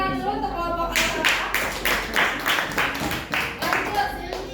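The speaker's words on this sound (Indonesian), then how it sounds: "tepuk tangan dulu untuk kelompok A" A classroom gives a group of students a round of applause, with a steady run of rhythmic claps at moderate volume and voices talking over them.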